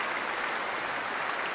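Concert audience applauding steadily after a performance of Haydn's Die Schöpfung by the Netherlands Radio Philharmonic Orchestra and Radio Choir, a dense, even wash of many hands clapping that holds unbroken throughout.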